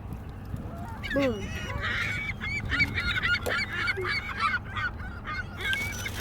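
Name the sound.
seagulls calling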